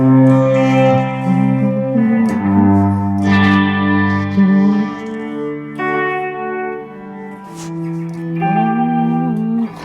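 Sustained music with a roomy, echoing tail; chords ring out and blur together as reverb washes over each change, loud and close.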